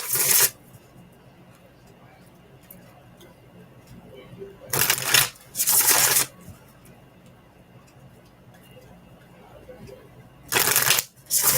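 Tarot cards being shuffled in three short riffling bursts, crisp and close, with quiet pauses between them.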